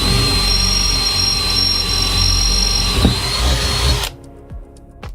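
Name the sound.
power drill drilling into a board corner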